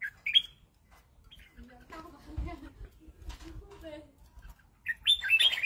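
Red-whiskered bulbuls give bright, short chirps and calls in bursts near the start and end, with someone talking in between and quieter stretches around them.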